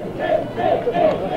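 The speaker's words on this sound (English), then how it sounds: "getting a cheer of Nate, Nate, Nate as he comes off the field" Crowd at a 1991 boys' high school soccer final between Plattsburgh and Peru chanting and cheering for a player leaving the field, a loud rhythmic group chant with cheering voices close and continuous.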